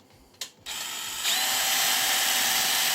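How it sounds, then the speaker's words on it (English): A sharp click, then a power drill starts up with a steady high whine that grows louder and harsher as the bit bites through the double-skinned metal panel of a VW T5 van. "I'll keep drilling until I get through both skins"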